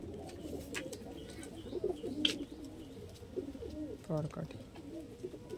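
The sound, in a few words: Giribaj pigeons cooing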